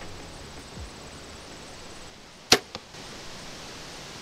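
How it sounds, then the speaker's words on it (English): A Carbon Express arrow is shot from a bow: one sharp, sudden release snap and a faint follow-up tick a moment later, heard close against quiet outdoor background hiss with no talk. "We're gonna shoot the Carbon Express first."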